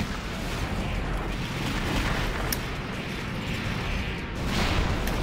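Hand sniper and sniper cannon fire in a multiplayer video game, rendered as a dense, continuous wash of booming, rumbling blasts that stays loud and steady throughout, with no clear gaps between shots.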